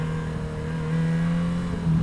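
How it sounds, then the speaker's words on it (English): The Yamaha XJ6 motorcycle engine, with stock exhaust on a bike at 60,000 miles, holds a steady, fairly loud hum that rises slightly in pitch toward the end, heard alone without talking. "The stock exhaust on the XJ6 makes it sound like an absolute space bike."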